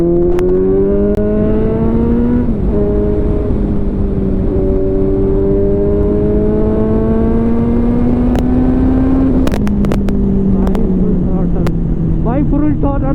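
A Kawasaki Z900 motorcycle at full throttle on a highway, a loud close engine climbing steadily in pitch through the gears with brief dips at shifts, over constant wind roar.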